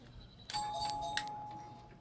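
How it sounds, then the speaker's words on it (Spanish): A doorbell installed at a small neighborhood shop in Lima, Peru, rings with a bright electronic chime, two ringing tones with a sustained tone beneath, heard close and clearly over faint background hum. "Acá hay un timbre. Han instalado un timbre."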